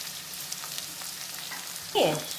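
Green chillies, a broken dried red chilli and curry leaves drop into hot oil for pulla upma, giving a sudden loud sizzle near the end after a quiet hiss, with no talking.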